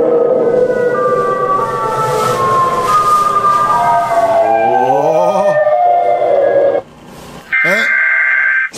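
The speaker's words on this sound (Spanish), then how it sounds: "Encontré 8 sonidos de Siren Head." A Siren Head sound effect plays from a phone outdoors in the woods: wailing, gliding siren-like howls rise and fall for several seconds, with people talking over and around it.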